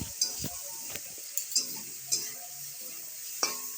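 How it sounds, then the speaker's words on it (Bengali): Red amaranth greens with salt and turmeric stirred in a pan, a spoon scraping and tapping in scattered clicks over a soft, steady sizzle as the water cooks off. "এবার কিছু সময় নাড়তে থাকবো নাড়তে নাড়তে যখন জলটা শুকিয়ে যাবে"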